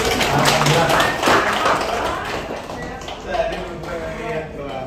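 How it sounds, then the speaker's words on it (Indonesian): Audience applause welcoming a guest at an Indonesian Minang community forum discussion, a dense clatter of clapping hands that swells and fades over several seconds, with voices mixed in beneath it. "Tepuk tangan untuk Pak Fasli dulu"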